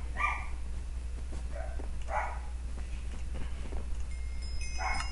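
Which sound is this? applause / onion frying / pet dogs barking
pet dogs barking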